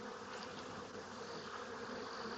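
A hive's comb thick with honey bees gives off a dense, continuous buzzing hum, close and steady, with no pauses or voices.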